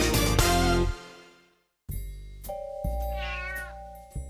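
A cat calls at a house door with long, drawn-out meows, one sustained cry fading out, a short silence, then another extended wavering meow, close and clear with no talk.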